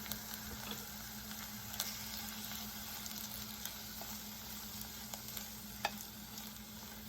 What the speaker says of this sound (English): I'm just going to simmer this until dinner's ready